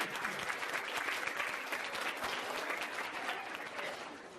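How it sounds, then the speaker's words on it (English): A banquet audience at a high school fall sports banquet bursts into steady, full applause. The dense clapping holds at an even level from start to finish with no talk over it. "So a nice round of applause for Jordan Mueller and the kitchen staff."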